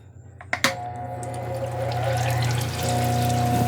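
Water runs steadily onto a lapidary stone grinding wheel as it starts up with an orange sherbet calcite stone, a couple of sharp clicks and then a continuous close splashing hiss under a low motor hum.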